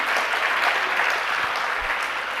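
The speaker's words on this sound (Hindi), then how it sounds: "तो फिर अपने आप ही ताली बजाए करो" An audience at a religious discourse applauds continuously, a dense, steady wash of many hands clapping at even loudness with no talk.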